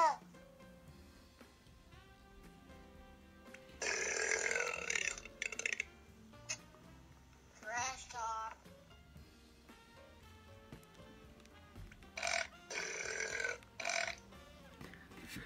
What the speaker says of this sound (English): There are so many burps and farts on this.